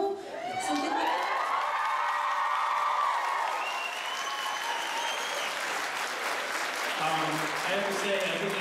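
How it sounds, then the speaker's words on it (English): An audience at an Edmonton Expo convention panel breaks into loud, sustained applause with cheers and whoops, and voices shout over the clapping throughout. "I think we should give another round of applause"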